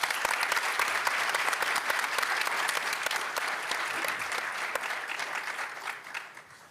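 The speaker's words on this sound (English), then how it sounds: "Let's have another round of applause." Sustained round of applause for students at a school district board of education meeting, steady dense clapping from a room of people that slowly fades toward the end.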